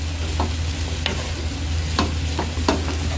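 Shredded chicken for chicken pastil being stirred as it fries in a pan with little oil, a low steady sizzle beneath several sharp spatula scrapes and knocks against the pan.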